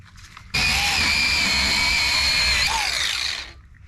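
Power tool, probably a grinder, working on a weld on a farm trailer, a loud steady whine that starts abruptly, holds for about three seconds with a slight pitch wobble, then winds down.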